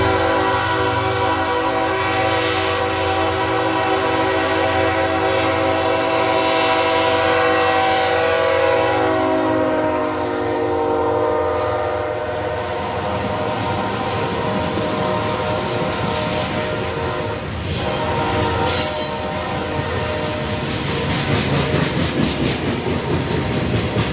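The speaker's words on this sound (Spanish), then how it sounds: "podemos observar un tren granolero al sur, esta vez al mando de la BNSF 4233, que con cuatro locomotoras llevan este pesado tren a su destino" A heavy BNSF grain freight train led by four locomotives rumbles past near Irapuato and Salamanca, Mexico, with loud sustained horn blasts over the engine drone, then steady wheel clatter of the wagons rolling by.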